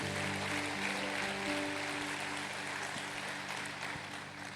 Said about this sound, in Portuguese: Dê uma salva de palmas a Ele bem forte.